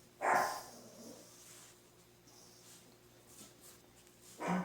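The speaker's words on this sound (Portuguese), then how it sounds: "Meu cachorro tá bravo lá na rua." A pinscher dog barks outside on the street, two sharp distant barks separated by a few seconds of quiet room tone, the first slightly longer with a brief yip-like tail.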